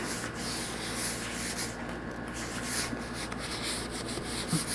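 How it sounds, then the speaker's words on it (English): Soft, steady hiss of a spray bottle misting water onto the back of a loose canvas, with faint rubbing and scraping textures close by, no voices. "I'm going to spray the back of this canvas"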